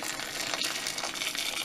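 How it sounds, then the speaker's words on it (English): Boiling water pours from a kettle onto chunks of potato in a pan, a short continuous splashing gush at moderate level. "So my kettle's boiled, so I'm just pouring in"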